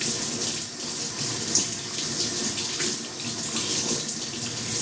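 Food being washed under a running kitchen tap, with a steady splashing stream of water into a sink, continuous and close, with no talking.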